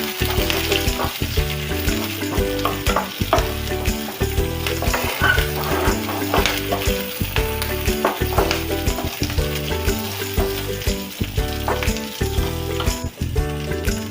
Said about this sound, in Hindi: तापरे बुट डाली के पकईदबा। ताको टिके भल भाव में भाजिबा।